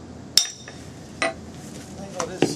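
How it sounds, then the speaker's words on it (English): A flat chisel struck by a hammer while dressing the face of a building stone for masonry steps, with four sharp metallic clinks spaced irregularly, close and fairly loud, over a quiet background. "And I'm going to face that stone, or some people call it dressing. This is a kind of a flat chisel."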